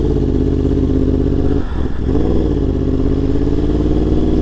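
Motorcycle ride, a loud close steady engine drone with a brief dip in revs partway through before settling back to an even cruise.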